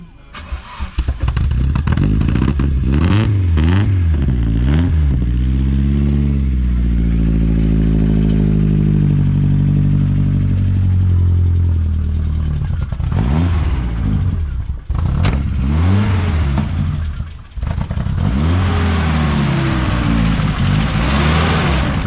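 A Nissan 200SX S12 with a swapped-in S13 sending unit starts up and runs close by. The engine note is loud and continuous, and it rises and falls as the revs change.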